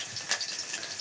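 Onions fry in a pan, giving a steady close hiss and crackle that runs without a break and without any talk over it.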